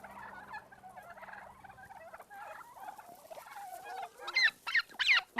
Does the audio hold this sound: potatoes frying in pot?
no